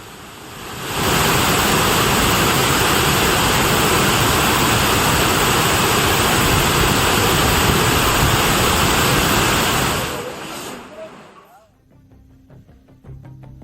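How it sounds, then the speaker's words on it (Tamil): Panchalinga waterfall in flood sends a loud, roaring torrent of heavy water crashing down, a constant broadband rush that fades out toward the end into quieter background sounds. "பஞ்சலிங்க அருவியில் தண்ணீர் வரத்து அதிகரித்து காணப்படுகிறது."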